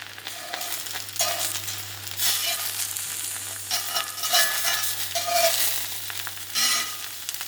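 Eggs fry in a pan with a continuous close sizzle that swells and pulses, bursts of crackling rising and falling over a steady low hum.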